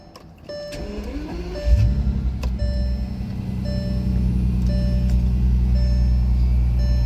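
2009 Bentley Continental GTC engine cranking and catching after a chime, then settling into a steady, loud low idle, with warning-chime beeps repeating over it.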